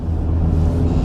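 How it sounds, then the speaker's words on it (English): A 2000 Toyota Camry with about 112,000 miles on a road test gives a steady low engine and road rumble from inside the cabin, smooth and even with no talk. "So far the car is driving well"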